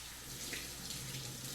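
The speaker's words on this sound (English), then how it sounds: "let me rinse my hand off" Running water from a tap as hands are rinsed during chicken preparation, a steady, close, moderately quiet splashing stream that continues evenly throughout with no talking.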